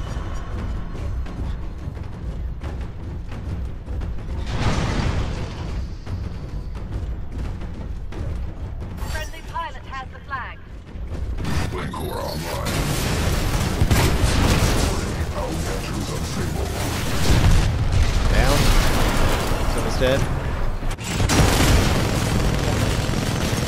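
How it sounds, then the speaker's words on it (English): Bombing explosions in the video game Titanfall during a capture-the-flag match on the Complex map, heavy booming blasts and rumbling gunfire in dense overlapping bursts, loud and continuous, with a player talking over the action. "Watch bombing."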